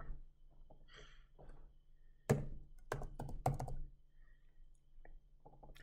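Fingers type on a computer keyboard while entering a spreadsheet formula: quiet, scattered keystroke clicks and a few heavier thunks arrive in irregular bursts, close and soft against a hushed room.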